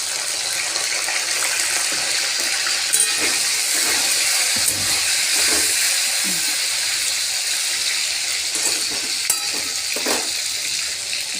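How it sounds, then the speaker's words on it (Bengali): Capsicum and tomato fry in a pan for a spicy potato curry, a continuous loud hissing sizzle with scattered stirring clicks and soft scrapes throughout. "ক্যাপসিকাম টমেটোটা ভাজা ভাজা হয়ে গেছে"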